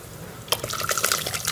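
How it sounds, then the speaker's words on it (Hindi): Cooked, softened dal is poured into a pot of prepared masala, making a sudden wet splash followed by a second of thick sloshing and bubbling liquid close by. "अब इसमें हम अपनी दाल शामिल कर लेंगे।"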